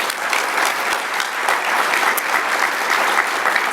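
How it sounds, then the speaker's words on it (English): Loud, sustained applause fills a room at a sustainability summit morning session, a thick, continuous clatter of many hands with no talk. "So give them a round of applause as well."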